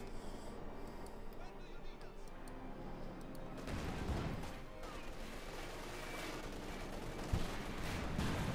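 Guardsmen rifles fire on a Panzer IV in Company of Heroes 2, a crackling volley of shots and impacts that grows louder and busier halfway through, with a sharp hit near the end and faint voices underneath.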